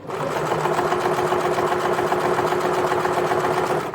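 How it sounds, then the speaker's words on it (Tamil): A sewing machine stitches chudithar fabric at a steady, fast, continuous whir, close up and fairly loud, with no talking over it. "இப்படி ஓரமாகவே தைச்சிட்டு வாங்க இப்போ இதை சுற்றி ஸ்டிச்சஸ் போட்டாச்சு"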